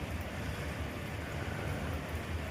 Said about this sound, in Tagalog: Wala pa rin tigil ang ulan.